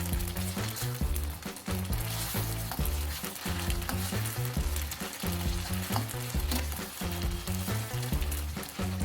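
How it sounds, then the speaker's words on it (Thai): Wide rice noodles sizzle and crackle vigorously in hot oil in a pan, a dense, steady frying hiss with stirring and turning scrapes, and no voices. "ทอดให้เส้นใหญ่กรอบเลยนะครับ พลิกกลับไปกลับมา จนกรอบทั่วทุกเส้นเลยนะครับ"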